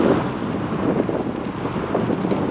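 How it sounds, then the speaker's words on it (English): Strong wind buffeting outdoors beside a parked electric unicycle, a steady, loud roar of gusts rumbling across the microphone with no voices. "Oh boy, it's windy."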